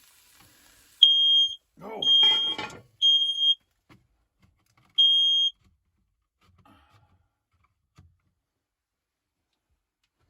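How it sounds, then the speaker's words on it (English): A smoke alarm goes off while chicken and onions cook, giving four short, shrill beeps in an irregular pattern, with a voice talking and kitchen clatter between the first bursts. "The alarm went off."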